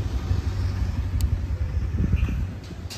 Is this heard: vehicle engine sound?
yes